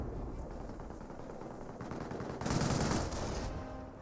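Distant, muffled gunfire from a Company of Heroes battle crackles along at low level, with a louder burst of shots and a rumble toward the end.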